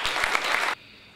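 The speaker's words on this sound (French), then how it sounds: "J'aimerais que vous vous joigniez à moi pour applaudir cet homme de médecine, le docteur Gérard Pédran" Audience applause for Dr. Gérard Pédran, head of the SAMU emergency medical service, fills a hall with steady, dense clapping for under a second before cutting off abruptly into quiet room tone.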